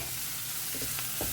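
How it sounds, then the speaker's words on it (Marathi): Ground spices like garam masala, chili and coriander powder sizzle and fry in a hot pan while being stirred, a steady close sizzle with soft scraping. "आतां मातशें ताका 1 मिनट आमी फ्राय करून घेवया"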